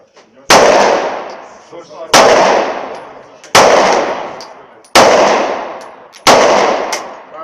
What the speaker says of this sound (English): first shot will be from double action and I'll continue shooting action after it